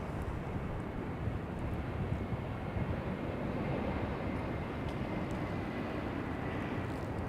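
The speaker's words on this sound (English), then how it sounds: "this arrival is American Airlines 2049, an Airbus A321 coming in from Salt Lake City" An American Airlines Airbus A321 arrives at Charlotte airport from Salt Lake City with a steady, broad jet roar that holds at an even, fairly loud level throughout, with no voices.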